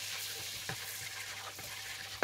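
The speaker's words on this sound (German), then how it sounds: "in dieser Pfanne gebe ich jetzt Butter hinein und schmelze diese Butter" Butter melting in a pan with a detachable handle on the stove, a steady soft sizzle and hiss throughout with faint clicks of stirring, close and without talk.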